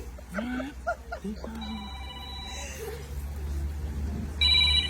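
A telephone rings with a steady electronic tone, starting after a few short voice sounds and returning loudly near the end over low background hum.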